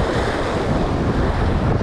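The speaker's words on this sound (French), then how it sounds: "les rafales ça s'arrange pas" Strong gusts of wind sweep over the sea during a day of fishing, a continuous roaring rush that buffets the microphone, with waves faintly mixed in and no pause.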